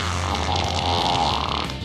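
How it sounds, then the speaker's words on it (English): A short, loud, buzzing fart sound effect from the video game You Don't Know Jack 2015 runs continuously for about two seconds, with no talk over it. "There will be farts and stuff."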